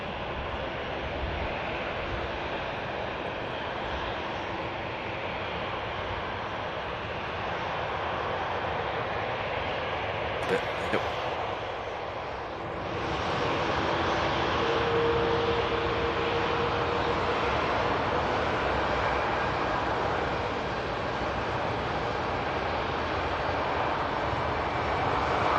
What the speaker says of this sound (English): Lufthansa Airbus A319 on the taxi out, and it's also followed by a Helvetic Embraer as well on the move.